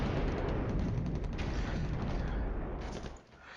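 Artillery fire in the Flashpoint Campaigns Cold War wargame comes as a dense, rumbling barrage of blasts and mechanical clatter, loud and continuous before tailing off near the end.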